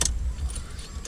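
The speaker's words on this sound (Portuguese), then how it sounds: "Liga o carro." A car started with a key during a beginner's driving lesson: a short jingle of keys at the start and end over a steady low engine rumble, close by, with no talking.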